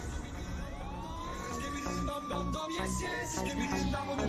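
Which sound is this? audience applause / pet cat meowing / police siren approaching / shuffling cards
police siren approaching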